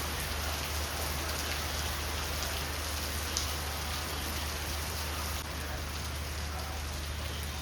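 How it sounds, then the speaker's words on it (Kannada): Heavy rain pours steadily onto surfaces nearby, a dense, unbroken hiss with scattered drip and splash accents throughout. "ಜೋರು ಮಳೆ ಸ್ಟಾರ್ಟ್ ಆಗೋಯಿತು"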